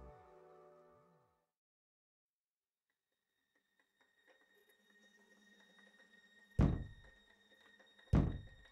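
Two heavy, low thuds land about a second and a half apart after near silence, each booming briefly against a faint background hum.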